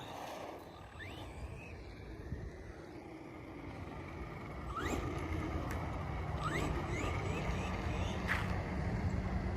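An RC car powered by a 2S lithium-ion battery pack drives outdoors with a continuous motor whine and rough rolling noise that grows louder and steadier about halfway through, along with a few faint chirps in the background.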